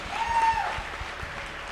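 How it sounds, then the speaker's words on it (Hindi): A short burst of audience applause at an event, a dense patter of clapping that stays fairly steady throughout while a faint tone briefly sounds over it. "जोरदार तालियां हमारी वुमेन पावर के लिए होनी चाहिए"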